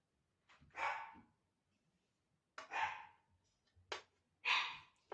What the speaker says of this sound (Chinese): 家里有小狗， 来人它就叫唤。